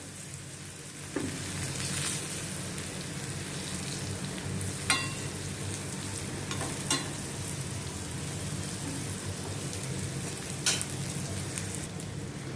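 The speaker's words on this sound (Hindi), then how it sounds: "इनको मैं थोड़ा अभी उलट पुलट करती हूँ ताकि चारों तरफ से अच्छी तरह से क्रंची हो जावे।" Stuffed okra (bharva bhindi) frying in a pan over medium-high heat and being turned, giving a steady close sizzle with a few sharp clicks and scrapes as the pieces are flipped.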